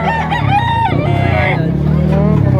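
A rooster crows loudly and close by, with clucking fowl, at a busy livestock market where chickens are being sold, a steady hum of crowd noise and vendor voices running beneath.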